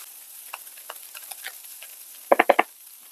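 Taco-seasoned chicken with butter on a Blackstone griddle, soft sizzle under light scraping and stirring taps, then a quick burst of four loud metallic spatula clacks near the end.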